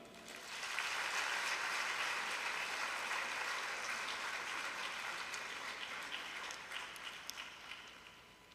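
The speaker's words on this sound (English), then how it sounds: "very big clap" A conference crowd at the launch of an oncology nurse leadership programme in Africa applauds, a broad even wash of clapping rising quickly and sustained, heard from some distance, tapering slightly at the end.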